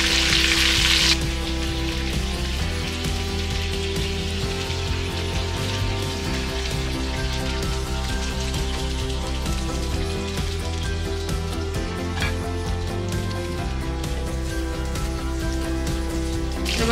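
Prawns frying and sizzling in hot oil in a home kitchen, a loud, steady crackling sizzle that runs throughout with no talk.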